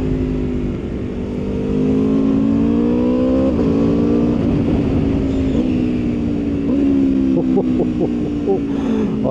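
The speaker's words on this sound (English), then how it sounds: "I reckon this has got to be the best sounding motorcycle out there" Aprilia RSV4 1100 Factory motorcycle with a loud, close engine revving and accelerating through rising and falling pitch sweeps, with brief gear-change dips and crackles near the end.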